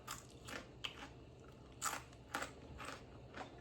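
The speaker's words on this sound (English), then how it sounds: "Hear that crunch?" Crisp, close crunches from biting into homemade French fries, several distinct bites and chews spaced through a quiet moment with no talking.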